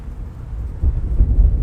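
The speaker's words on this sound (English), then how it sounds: "is it windy out" Strong gusting wind blows outdoors around an open beehive during spring brood inspection, a low steady rumble that swells louder and rougher in the second half.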